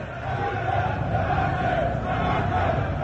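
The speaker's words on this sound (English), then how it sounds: "Another large crowd." A large crowd shouting in a news report, a dense, continuous roar of many voices that stays steady and loud throughout.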